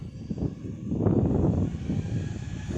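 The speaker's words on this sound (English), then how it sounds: "the Wizz Air jet has started to take off" A Wizz Air Airbus A320neo jet taking off makes a steady, broad rumbling roar that swells and holds, heard from a distance with some wind noise.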